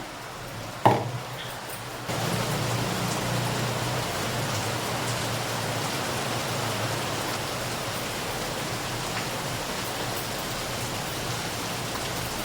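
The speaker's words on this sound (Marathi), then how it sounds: "पाच मिनिटात असा मोठा पाऊस आला आहे" A sharp knock at the start gives way to a dense, even hiss of heavy rain that holds steady to the end.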